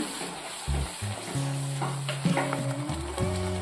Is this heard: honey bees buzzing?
no